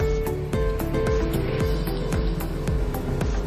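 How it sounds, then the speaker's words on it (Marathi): A kitchen mixer grinder whirring as it grinds cooked rice into a fine paste, its motor steady with a rhythmic, repeating thumping pulse from close by. "आता हे मिक्सर मधनं वाटून घेतलाय भात आपण।"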